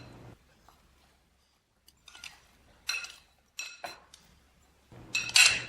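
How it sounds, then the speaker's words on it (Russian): Halved tomatoes are tossed with balsamic vinegar in a bowl, giving sparse, close clinks and wet scraping bursts of a utensil against the dish, separated by near-silent pauses. "Вначале добавить хороший бальзамик и хорошенько перемешать."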